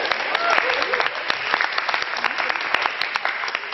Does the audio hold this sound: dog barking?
no